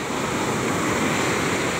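Ocean waves at Calayo beach in Nasugbu, Batangas, rushing in a steady broadband wash with constant surf roar and some wind rumble, loud and continuous without any voices.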